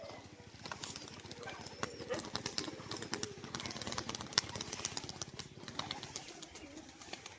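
A white-green female pigeon performs its standing wing-clapping display, a rapid, continuous train of sharp claps close by, fairly loud and sustained throughout.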